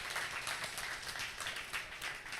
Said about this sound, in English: please give Joan a huge round of applause